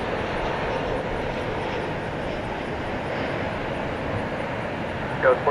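Steady jet engine roar of an airplane arriving on runway 18 right at DFW Airport at night, heard from a distance as a continuous broad whoosh, with a faint radio chirp near the end.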